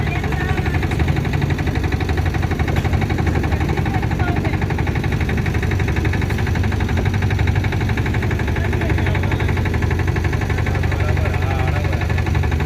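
Engines of large boats on the river at the Maha Kumbh Mela in Kashi, a loud, steady, close motor drone with a chugging rumble that runs without a break.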